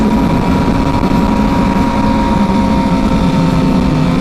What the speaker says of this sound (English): The sounds from the exhaust and the engine are very linear.